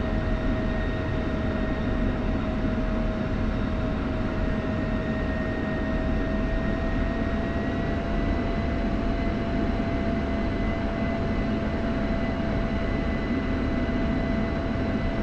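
Steady, constant aircraft engine drone from a flight sim game, held at a running pitch before takeoff, loud and unbroken with faint tonal whines layered above and no talk.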